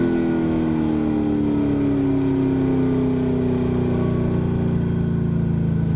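A 2000 Corvette drag car idles loudly at an NHRA drag race starting line, a steady, rumbling engine drone with a slowly falling pitch across the whole stretch and no talk.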